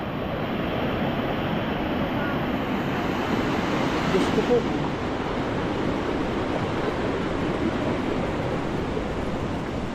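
Rushing flood water with broad wave-like noise roars steadily and loudly throughout, thick and unbroken, while a voice briefly exclaims over it.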